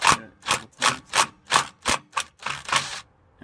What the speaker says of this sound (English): I'm going to take my impact driver, the socket head on it, and then back this out.